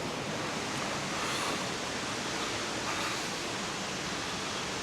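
The Dyserth waterfall in North Wales pours with a constant, even rush of falling water, fairly faint and without voices.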